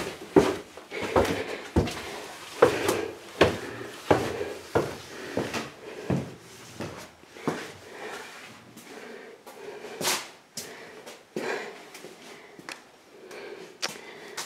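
An interior side door leading into a basement is worked open, giving a run of sharp wooden knocks, clicks and thumps at close range, irregularly spaced over the whole stretch with no talking.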